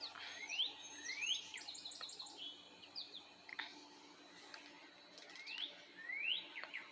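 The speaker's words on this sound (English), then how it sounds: "There's bird singing, quiet neighborhood." Several birds chirp and sing in a quiet residential neighborhood in Victoriaville, with repeated bright rising whistles and short trills spread across the clip over faint background hush.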